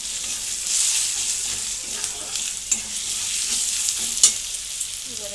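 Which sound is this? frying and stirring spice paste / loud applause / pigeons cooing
frying and stirring spice paste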